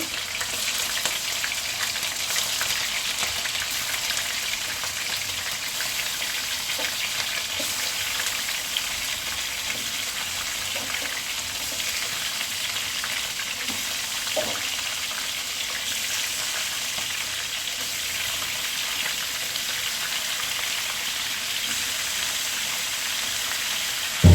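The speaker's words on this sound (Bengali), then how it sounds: "মুরগির মাংসগুলো ভেজে নেব।" Chicken pieces frying in a pan for a garlic chicken curry give a steady, even sizzle with a broad hiss that never lets up and sits close by, with no talking.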